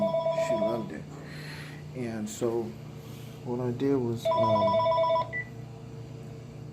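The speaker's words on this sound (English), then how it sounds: "sorry, that's the phone." A telephone rings in two bursts of electronic tones under a man's ongoing speech, moderately loud and close.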